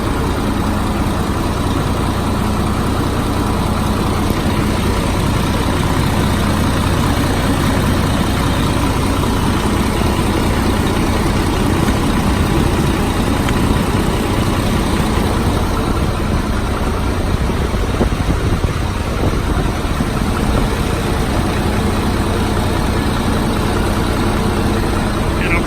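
Steady close-up idle of a 2005 GMC bucket truck engine, a constant low rumble running unbroken for the whole stretch.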